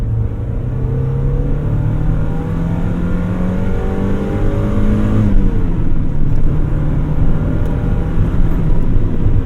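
A stock Mazda MX-5 Miata accelerates hard, the engine note climbing steadily before dropping at the shift into second and rising again, loud and continuous from inside the car.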